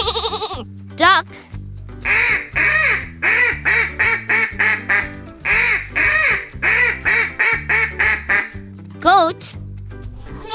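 A fast run of loud, nasal duck quacks in two bursts, many short calls in quick succession over a light children's music backing, with brief vocal sounds before and after.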